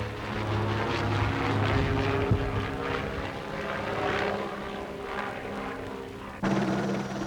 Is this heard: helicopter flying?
yes